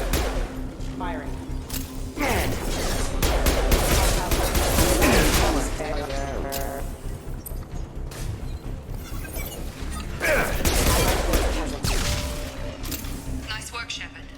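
Sustained gunfire in the sci-fi shooter Mass Effect 2, with rapid bursts, cracks and booms in a dense, loud battle mix, while voices talk over the action at times.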